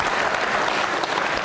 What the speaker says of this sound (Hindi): तालियां बजाइए दिनेश जी के लिए जोरदार तरीके से।